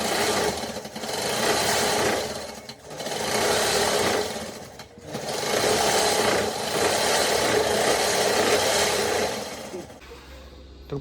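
A sewing machine runs in long continuous bursts while stitching a saree cover onto an old quilt, loud and close, with brief pauses between runs before it stops near the end.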